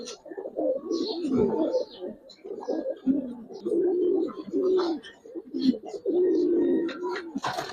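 Giribaz pigeons in a loft coo steadily in repeated low, throaty rolling phrases, close and fairly loud, with brief higher chirps and some soft background noise.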